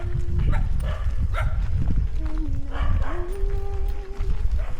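A dog barks several times amid a noisy outdoor scene, with a rumbling low background, a high whine, and faint voices.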